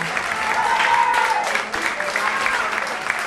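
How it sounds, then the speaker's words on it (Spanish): Audience applauding a small live band with a bassist and guitarist at a rock cover show, steady clapping and cheering filling the room at close range. "que siga ese aplauso"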